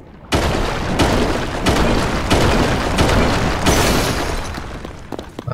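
A bomb detonating in Zelda: Tears of the Kingdom, with a sudden loud boom followed by a dense, sustained roar of rumbling blasts and crashing debris lasting several seconds before tailing off.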